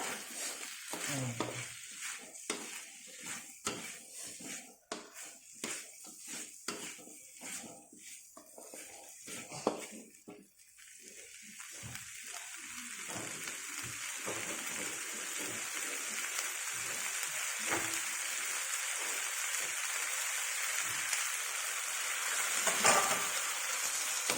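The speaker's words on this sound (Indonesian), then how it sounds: "Masukkan hati sama rempelanya yang sudah dipotong-potong sesuai selera kita ya" Chopped chicken liver and gizzard stir-fry in a pan for oseng ati ampela, with steady sizzling, the clatter and scrape of stirring early on, then a constant loud frying hiss.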